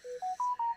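A phone notification chime from a phone left off silent, four short rising electronic tones in quick succession, clean and fairly quiet, lasting under a second with no talk.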